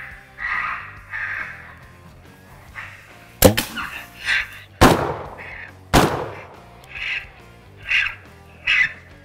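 Three sharp, loud gunshots fired at an electronic predator call, spaced about a second apart, cutting over the call's repeated squealing animal-distress cries that continue before and after.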